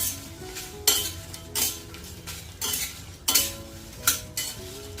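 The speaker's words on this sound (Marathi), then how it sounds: "दोन मिनटं कोरड्या मिरच्या भाजून घेते" Dry red chillies roasting and stirred in a pan, likely for a niger seed chutney: a spoon scrapes and clatters against the metal about six times, with crisp rustling bursts over a faint background, no talking.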